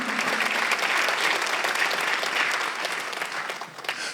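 A church congregation bursts into dense, continuous applause during a Sunday worship service, loud and sustained throughout before easing slightly at the end.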